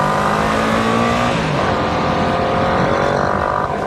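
A Yamaha VMAX motorcycle engine revs hard while riding, a loud continuous roar with rising and shifting pitch that holds steady throughout with no talking.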